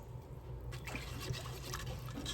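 Molasses poured into a bread pudding mixture, a soft wet trickling and dribbling close by for a couple of seconds over a low background hum.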